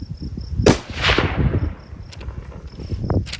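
A .338-378 Weatherby rifle fires a single sharp report from a load of 101 grains of powder under a 250-grain bullet, a loud crack followed by a trailing outdoor echo.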